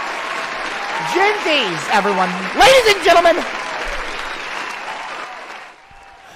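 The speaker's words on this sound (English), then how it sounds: "can we please have a round of applause" A round of applause from an audience rolls on as a steady crowd clapping under someone talking loudly over it, then thins out toward the end.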